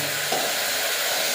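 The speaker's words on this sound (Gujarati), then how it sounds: "વઘાર સમસમ થઈ ગયો." Hot oil sizzles steadily with a tempering added for a potato, pea and tomato curry with green garlic, a dense continuous hiss close by with no voices.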